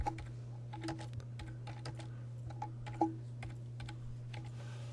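Keys on a computer keyboard tapped in quick irregular bursts while a file name is entered, close and fairly quiet over a steady low hum, with one sharper keystroke standing out.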